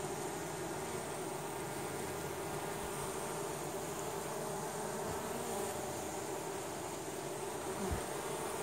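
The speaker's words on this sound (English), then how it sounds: "There's a few bees in that hive." Honey bees hum steadily around an open hive being split, a dense continuous buzz close by with no talk.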